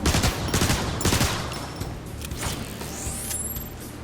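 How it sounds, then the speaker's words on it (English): Photon Burst Rifle fire in Transformers: War for Cybertron, rapid bursts of sci-fi energy shots with mechanical clatter, followed by a rising whine near the end. "The Protector typically comes equipped with the Photon Burst Rifle"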